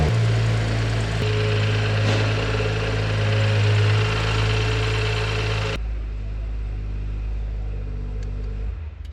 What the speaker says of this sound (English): Engine is still running fine.